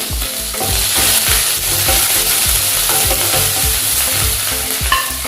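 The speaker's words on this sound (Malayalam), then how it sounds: "എല്ലാം കൂടി ഇട്ട് നന്നായി മൂപ്പിക്കുക." Loud, continuous sizzle of crushed ginger, garlic and green chillies frying in oil, with a spoon scraping the pan in a steady, repeated rhythm.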